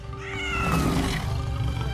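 A cat gives a drawn-out meow close by, a single whining call lasting nearly two seconds over a noisy indoor background.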